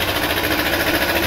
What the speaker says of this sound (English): I've got my old compressor down the back. Noisy as hell.